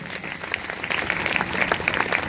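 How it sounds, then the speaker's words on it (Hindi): Loud applause from a Sunday church congregation at a Hindi-language Christian ministry service, scattered claps building into a dense, sharp patter that grows stronger toward the end. "अगर आया तो जोरदार तालियां बजाएंगे।"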